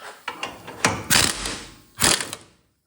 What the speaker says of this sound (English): a lot of people may have a problem with me doing torsion bars with an impact